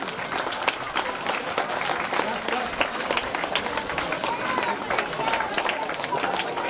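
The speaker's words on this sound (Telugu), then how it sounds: "బాయ్స్ అండ్ గర్ల్స్ క్లాప్స్ ఆపమని చెప్పలే నేను." Schoolchildren applaud at a government school shoe distribution event, a sustained dense patter of many hands clapping at moderate distance, with crowd murmur underneath.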